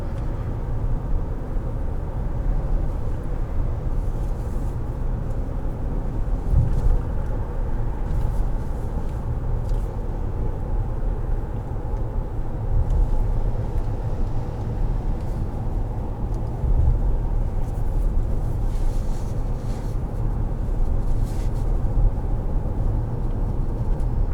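A 2021 Nissan Titan Pro-4X pickup with a V8 engine while driving, a steady low engine drone blended with road and tire noise inside the cab, constant and unbroken throughout.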